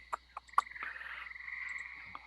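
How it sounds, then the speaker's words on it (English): Tree frogs and crickets at night make a steady high trill, broken by a few sharp, close croaks near the start and one more near the end. No one speaks. "All you hear are crickets and tree frogs."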